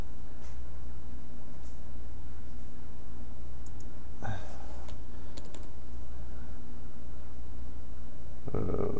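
A computer mouse is right-clicked at a desk, giving a few sparse, crisp clicks spaced seconds apart over a low steady room hum, close and fairly quiet.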